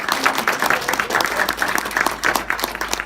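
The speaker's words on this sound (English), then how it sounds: "How about another round of applause for these 4 fantastic" An audience at a winter music concert applauds performers with dense, steady clapping that runs throughout at moderate loudness.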